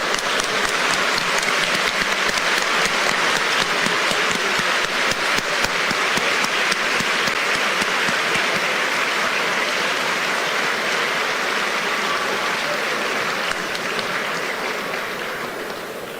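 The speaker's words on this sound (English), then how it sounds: "Please give a round of applause to the President of the Republic of China" A large audience at an American Chamber of Commerce in Taiwan event applauds President Tsai Ing-wen with dense, sustained clapping that holds steady and then begins to fade near the end.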